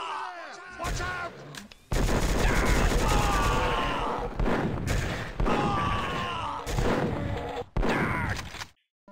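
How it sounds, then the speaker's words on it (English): Gunfire from monsters shooting each other in Doom 2, loud rapid bursts and booming shots packed densely across the clip with a few short gaps, groaning creature sounds mixed in. "They're shooting each other, that's good."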